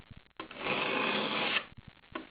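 A file scrapes across the teeth of a Silky pruning saw in one long rasping stroke, close and fairly loud, framed by a few short clicks before and after.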